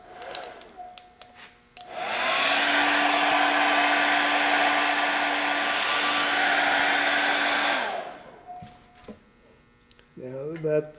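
Hair dryer blowing steadily for about six seconds, drying a coat of stretch-and-stipple witch makeup on skin; a loud, even whoosh and motor hum that starts abruptly and cuts off, with quiet room sounds before and after.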